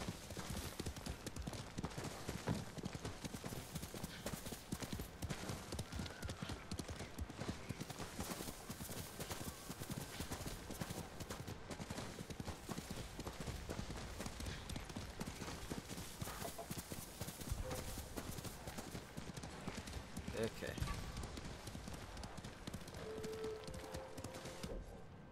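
Horse hooves clip-clop at a steady galloping rhythm in the video game Ghost of Tsushima, continuous and fairly close, with a faint tone and brief game sounds layered over the running hoofbeats.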